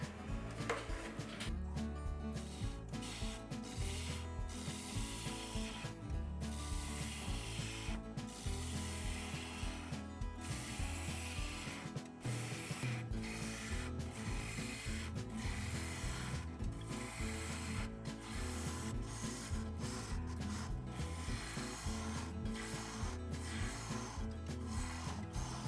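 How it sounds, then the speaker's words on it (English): A lathe gouge rough-turns the inside of a natural edge maple bowl, producing a steady rubbing, scraping drone with rhythmic rasping pulses and brief pauses, close and continuous throughout. "I'm going to rough turn the inside now"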